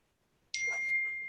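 A phone text message notification gives a single sudden bright ding that rings on briefly, close and clear in a quiet room.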